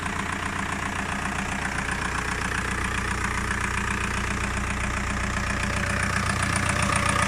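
A Volkswagen Caddy engine runs steadily at idle with a newly replaced transmission, giving a continuous, close, even mechanical hum and rattle for the whole stretch, with no talking.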